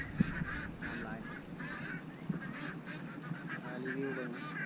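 Ducks at a rural Lao duck-rearing farm beside a home garden, giving repeated honking quacks in loose bursts from a close flock, with faint background voices now and then.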